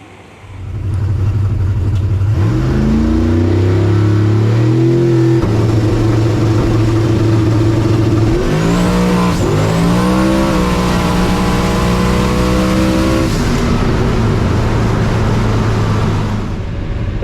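A drag racing car makes a full pass, its engine climbing loudly through several gear changes with a steady high-pitched roar that holds close and strong before easing off near the end.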